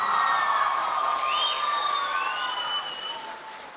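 An audience at a public gathering in Darjeeling, West Bengal, breaks into sustained applause and cheering, a dense wash of clapping with whoops and shouts that carries on for several seconds before slowly easing off.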